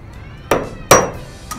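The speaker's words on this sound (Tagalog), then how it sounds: "Ang gagawin ko muna ay martilyo." A hammer strikes metal while reinforcing the mount of a grass cutter, giving three sharp, ringing blows spaced unevenly, close and loud over quiet background.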